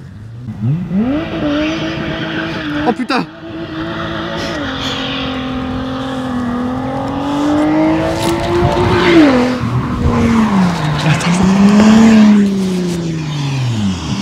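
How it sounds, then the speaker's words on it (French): A race car makes a standing start with loud engine revving, tires squealing and skidding as it pulls away and shifts up, close and powerful, with a brief exclamation from a man early on. "je vais lui demander qu'il me fasse un petit départ arrêté"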